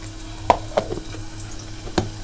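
Garlic and curry leaves sizzle in hot oil while cooking a Konkan-style wet kardi fish curry, a steady low fry hiss with a few sharp crackles and stirring knocks nearby.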